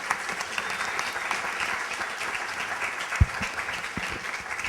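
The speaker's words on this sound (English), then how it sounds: "Let's give him a round of applause." Audience applause after a talk at a food-system discussion event, a steady patter of many hands at moderate level, with one sharp louder clap standing out near the end.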